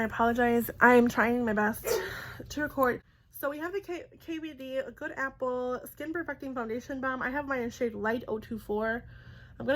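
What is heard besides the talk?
No everyday noises stand out.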